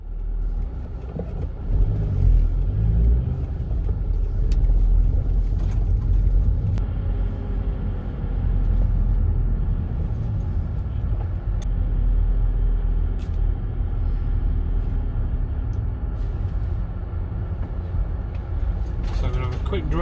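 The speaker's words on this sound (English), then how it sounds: "So I'm going to have a quick drive around and then I'm going to decide where I think the best place to park up is" Camper van driving slowly around an Asda supermarket car park at night, with a steady low engine and road rumble throughout and a few faint clicks and knocks, no clear talk.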